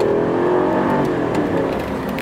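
A 2003 Mercedes-Benz S500 W220 saloon pulls hard uphill from around 10 mph, its engine drone steady and loud from inside the cabin as it builds power, with no talking.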